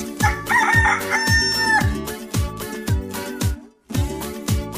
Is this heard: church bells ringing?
no